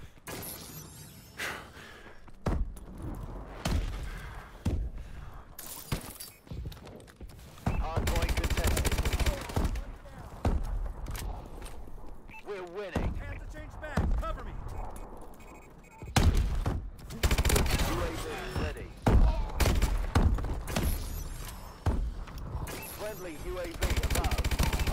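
Repeated bursts of automatic gunfire in a hardpoint match of a first-person shooter, loud close volleys with thuds and impacts, broken by short pauses, with game announcer voices.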